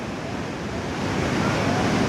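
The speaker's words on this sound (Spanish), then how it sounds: "miren qué linda la cascada" Lower Falls waterfall in Banff, in the Canadian Rockies, a steady broadband rush of falling water that swells slightly louder midway, continuous and unbroken with no voices.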